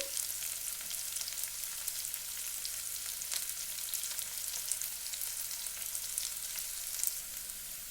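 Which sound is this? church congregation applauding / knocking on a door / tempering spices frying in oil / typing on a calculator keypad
tempering spices frying in oil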